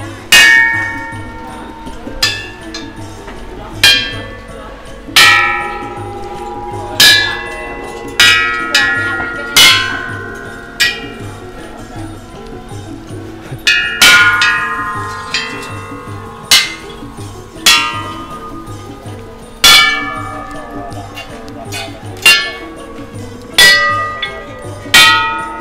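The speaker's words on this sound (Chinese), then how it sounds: "敲钟一下就可以祈福啊。" Old bronze temple bells at Wat Rakang in Bangkok are struck one after another, each sharp ringing strike decaying slowly. About a dozen irregularly spaced hits ring out clearly over a faint ambient background.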